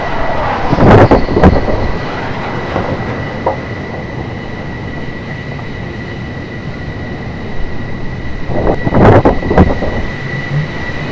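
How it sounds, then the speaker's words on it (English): A Grumman A-6 jet aircraft comes in to land, a broad roaring rush with a steady high whine, swelling into two louder bursts near the start and the end. "an A6 landing."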